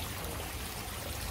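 Heavy morning rain pours steadily at a seaside village house, a dense, even wash of water noise with no breaks and no voices over it.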